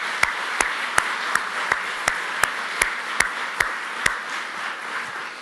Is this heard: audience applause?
yes